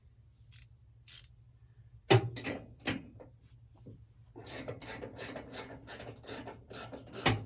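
Ratchet wrench clicking as 18 mm sway stop bolts, sprayed with penetrating oil, are loosened on a Ford truck: a few isolated clicks, then a steady fast run of close, crisp ratchet clicks.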